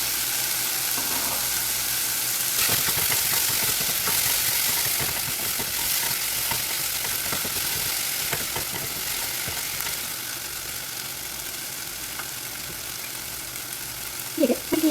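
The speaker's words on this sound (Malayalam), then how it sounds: "ഒന്നും കൂടി വഴറ്റി കൊടുക്കുക" Masala being sautéed in a pan for Indian-style pasta: a continuous bright sizzle of frying, broken by occasional scrapes and clinks of a stirring spoon, fairly close and steady throughout.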